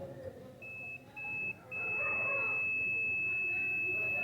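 Steady high continuity beep from a multimeter probing the ground on a Philco microwave oven, sounding repeatedly in short bursts then holding as one long tone over faint workshop noise.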